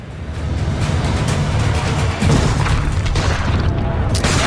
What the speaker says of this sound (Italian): Caricate il cannone. Distruggete i loro cannoni